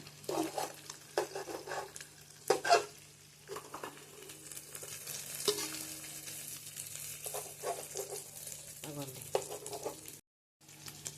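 Large pieces of cooked egg fry in oil in a pan for prawn fried rice, a soft hiss broken by scraping, stirring clinks and a few spatters, while a voice talks intermittently nearby and a brief silence falls near the end.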